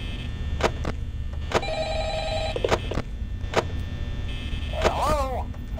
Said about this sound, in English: Hello, answer the phone, please.